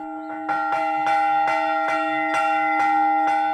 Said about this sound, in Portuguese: Os sinos têm vários tamanhos e o badalo também vários pesos.